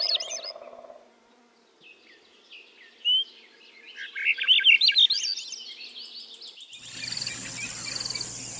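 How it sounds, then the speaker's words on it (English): Thrush singing, a series of varied, high fluting phrases with short pauses between them, moderately close and alone. The clip opens with a brief buzzing note and ends with a harsher, noisier passage. "Thrush."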